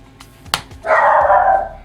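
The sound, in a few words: dogs barking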